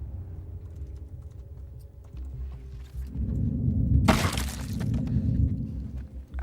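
A glass window is smashed in The Last Of Us Part II, a sudden bright shattering burst over low rumbling game ambience, with scattered tinkling before it fades back under the rumble.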